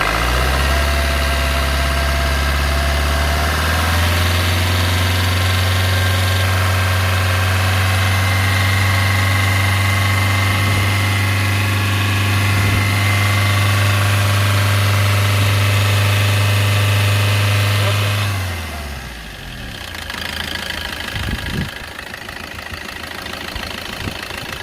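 A 2019 Maruti S-Cross diesel idles steadily with a deep, even rumble for about eighteen seconds, then the engine note cuts away and quieter, irregular knocks and handling sounds follow.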